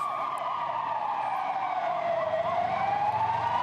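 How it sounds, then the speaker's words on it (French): A wailing ambulance siren rises and falls continuously, fairly loud and alone, with a faint vehicle rumble underneath, in Brussels. "Au loin, on entend les sirènes des premières ambulances qui arrivent."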